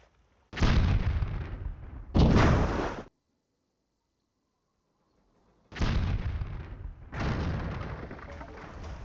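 Cannon fire and explosions in a naval battle in the game Patrician 3, four heavy booming blasts in two pairs separated by a few seconds of silence, loud and near with no voices.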